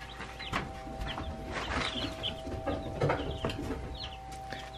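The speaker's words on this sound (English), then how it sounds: "Meat birds are looking good." Meat chickens cluck and chatter nearby in a brooder, with overlapping short calls and scratchy rustling over a steady low hum.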